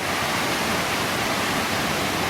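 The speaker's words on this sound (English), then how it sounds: "This is Middle Prong Falls." Middle Prong Falls, a waterfall in the Pisgah National Forest wilderness of North Carolina, pours in a loud, close, continuous broadband roar of rushing water, with no talk.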